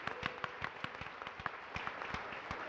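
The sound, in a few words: audience applause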